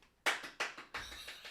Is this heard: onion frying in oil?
no